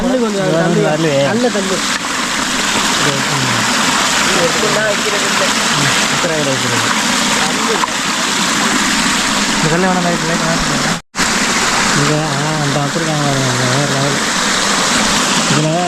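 Continuous rushing water pours steadily over a lake overflow throughout, loud and close, with people talking over it.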